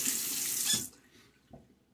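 Water from a sink tap runs steadily during a wet shave between lather passes, a close, broad rush that stops abruptly partway through, leaving a quiet room with a faint knock.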